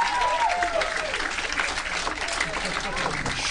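Audience applause at a live comedy podcast show in Bloomington, Indiana, a steady wash of clapping from a full room with scattered whoops, moderately loud and continuous throughout.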